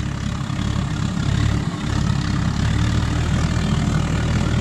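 Oil burner converted into a pot belly stove, roaring loudly and steadily as it is turned up, a deep, engine-like rumble with a brief dip in the middle before the roar returns.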